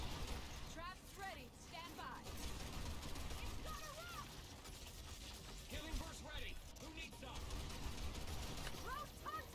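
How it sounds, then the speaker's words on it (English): Mortar fire and battle noise from the game Evolve, a steady dense wash of rumbling impacts and mechanical clatter throughout, with a voice talking over it. "Oh, mortars!"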